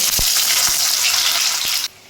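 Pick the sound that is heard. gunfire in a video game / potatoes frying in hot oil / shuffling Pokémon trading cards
potatoes frying in hot oil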